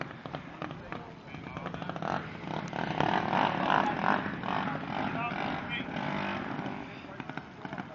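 Gas-powered motorized bicycles racing down a street toward a finish line: a sustained, buzzing two-stroke engine drone swells as they approach, with people talking over it.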